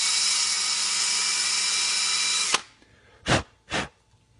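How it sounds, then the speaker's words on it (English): A power drill bores holes in a 3D printed powder-filled stake bed, a steady loud whine for a couple of seconds that stops abruptly, followed by two short bursts of noise. "So you drill those holes out, and on your bed you're also going to drill that out"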